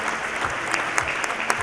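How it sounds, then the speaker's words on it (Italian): Steady applause from a theatre audience, dense continuous clapping with a few sharper claps standing out, fairly close and even throughout. "Le ragazze stanno applaudendo"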